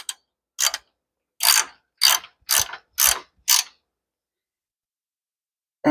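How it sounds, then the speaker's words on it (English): Ratchet wrench tightening the caliper bracket bolts on a 2006 Chevrolet Colorado during a front brake pad and rotor job, seven short, sharp clicking bursts in quick succession, close and loud against silence. "We're going to go ahead and tighten up these bolts for the caliper bracket."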